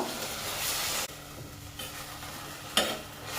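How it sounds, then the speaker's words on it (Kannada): Chopped keerai greens sautéed in hot oil in a full pot, giving a steady close sizzle with stirring scrapes that cut out briefly, then return with a sharp burst near the end. "ಇದನ್ನು ನಾನಿದೆ ಇವಾಗ ಎಣ್ಣೆಗೆ ಹಾಕ್ತಾ ಇದ್ದೀನಿ. ಎಣ್ಣೆಲಿ ಸ್ವಲ್ಪ ಬಾಡಿಸೋಣ ಅಂತ"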